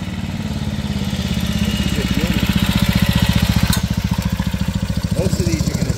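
An 85-year-old 1939 BSA M20 wartime military motorcycle with a sidecar rig, its single engine thumping at a steady, loud idle-to-mid rhythm throughout, with faint background noise.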